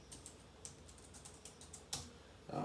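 Fingers typing steadily on a computer keyboard, soft quick clicks in an irregular rhythm, faint and close, with a louder keystroke near the end.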